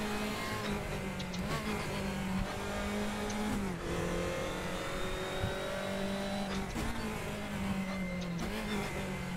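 A race car in the RaceRoom racing game drives continuously with a loud, steady engine drone, revving and shifting, with brief dips where it brakes and downshifts, and faint tire squeal, no talking.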